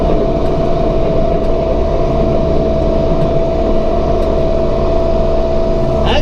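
A Massey Ferguson 1755M compact tractor engine runs steadily and loudly close by, a constant diesel drone with a firm low hum and no break for the whole stretch.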